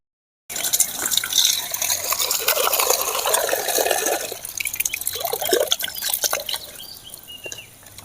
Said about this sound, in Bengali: এখন আমি চিকেনগুলো সব ধুয়ে নেব কলের গোড়ায়।